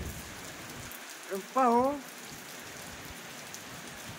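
Heavy rain pours down steadily in a continuous loud patter during a flooding storm, while a person briefly speaks a few words partway through.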